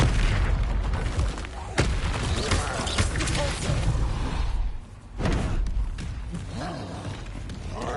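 Spell explosions in Hogwarts Legacy, the Confringo fire curse blasting in a dense, loud gameplay mix, several heavy booms and crashes in quick succession with an abrupt dip near the middle before the next impact.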